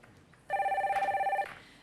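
A telephone rings for an incoming call on a Korean stock-market call-in broadcast: one loud, steady trilling ring burst lasting about a second, close and clear, with no talking over it.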